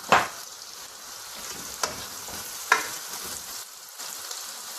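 Onions and four green cardamom pods fry in butter for butter chicken, giving a steady close sizzle under a few sharp stirring scrapes against the pan.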